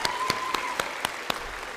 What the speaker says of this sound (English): Give Mackenzie a round of applause.